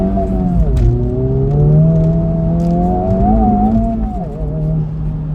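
A Honda Civic Type R FL5 on a track, tuned with a Hondata FlashPro and Stage 2 93-octane map, pulls hard with its wheels spinning, the engine note rising and sagging in a loud, continuous drone heard from inside the car.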